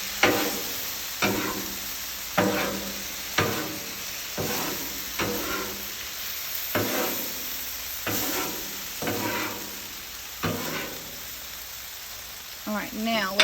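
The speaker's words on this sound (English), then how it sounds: "Get a good wilt on that spinach." Spinach wilting on a hot Blackstone flat-top griddle for a vegetarian toddelloni dish, a steady sizzle broken by regular scraping strokes of a spatula, close and clear.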